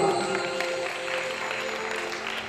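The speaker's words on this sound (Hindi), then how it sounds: "खूब हृदय से धन्यवाद, जोरदार ताली बजाने के लिए" Dense, steady applause fills a hall from a seated audience at a spiritual discourse. The sound is a continuous wash of many hands clapping at even loudness throughout, with no clear speech.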